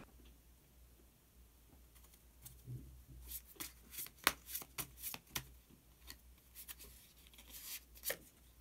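Tarot cards shuffled and drawn by hand, a scattered run of crisp riffling snaps and slides that picks up midway, close and fairly quiet, with no talking.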